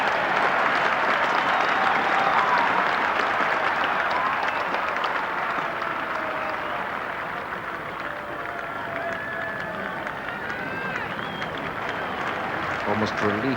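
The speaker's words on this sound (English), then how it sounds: "Almost relief as much as applause by the spectators for England's 50 up" Spectators at Lord's applaud steadily during an England v West Indies Test match day in 1988, a broad sustained crowd clapping with murmuring voices mixed in, loud and continuous throughout.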